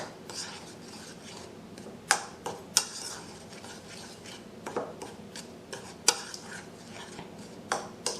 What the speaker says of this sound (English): Stir until all the ingredients are well blended.